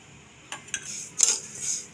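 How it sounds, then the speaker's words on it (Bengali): Spatula scraping and clinking against a wok while broken wheat (dalia) roasts, a few sharp metallic strokes close by over an otherwise quiet background. "হালকা একটু নাড়াচাড়া করে নেব,"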